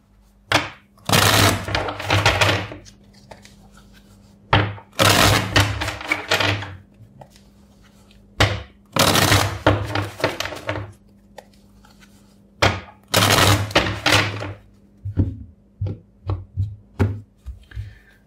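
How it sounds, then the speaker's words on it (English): Repeated bursts of crisp riffling and snapping cards, several shuffles separated by short pauses, close to the microphone, ending with lighter taps. "first let's shuffle the deck."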